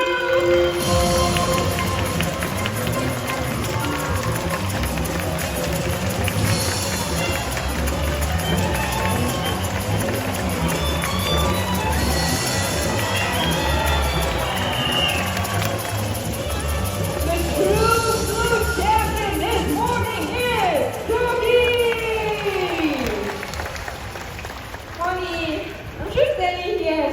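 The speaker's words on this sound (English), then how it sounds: "The louder you cheer, the faster these birds might actually run, okay?" Spectators at a bird park show cheer and shout as trained birds race to gather fruit, with crowd noise, an amplified host's voice and excited calls rising near the end.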